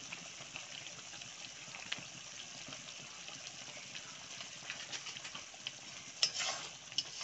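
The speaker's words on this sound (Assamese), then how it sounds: "মিক্স কৰি ল'ম আৰু ভাজি ল'ম। তো ফ্ৰাই কৰি ল'ম।" Spices with black pepper and red chilli powder being stirred and fried in a pan, a steady soft sizzle with scraping stir strokes throughout and a couple of sharper clinks near the end, no talk.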